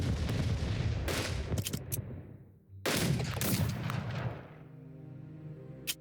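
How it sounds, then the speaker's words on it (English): Bombing on Danzig in the strategy game Unity of Command 2: two heavy blasts of explosions and gunfire-like rumble, each decaying into a low fading roar. "We'll use a bomb on Danzig."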